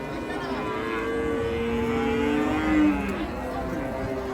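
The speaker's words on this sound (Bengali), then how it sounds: "মাশাল্লাহ খুব সুন্দর একটা শাহিওয়াল আসছে" A Sahiwal cow at a rain-soaked cattle market lets out a long, loud moo that bends in pitch, with a steady outdoor background and no talk.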